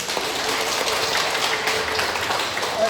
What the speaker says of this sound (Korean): 박수 한번 쳐주시면